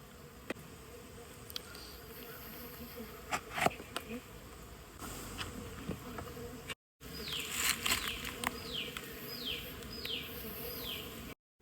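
Stingless bees swarm around an opened hive during colony division, their buzzing a close, continuous drone with repeated rising whines as individual bees fly past, along with occasional soft taps and handling noises.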